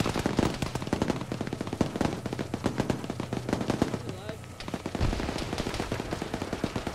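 Rapid automatic gunfire in the Arma military shooter game, dense volleys of shots rattling almost nonstop from several weapons, with voices under the firing.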